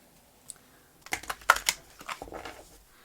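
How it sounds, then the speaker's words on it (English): A tarot card deck shuffled by hand, a quiet tap at first, then a rapid cluster of close papery flicks and clicks lasting over a second before fading. "I have already been shuffling this deck"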